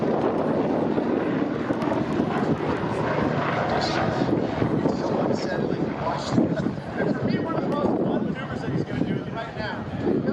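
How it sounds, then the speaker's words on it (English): A BO-105 helicopter flies aerobatic flips and turns at an airshow, its rotor and engine a continuous loud roar with wind buffeting, while an announcer talks over it throughout. "Rotates that helicopter."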